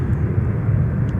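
Airbus A321 airliner arriving at Minneapolis–Saint Paul airport, a steady low engine rumble and roar, loud and continuous over about a second, with no voices.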